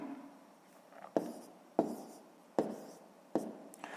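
Pen or pencil writing numbers by hand on paper during a fifth-grade maths exercise, with quiet close scratching and four sharp taps spaced about a second apart.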